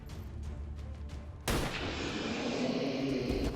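A single sharp pistol shot from the turn-based strategy game XCOM 2: War of the Chosen cracks out loudly midway, followed by a sustained noisy roar and ringing tail, with a low rumbling game ambience before it and no talking.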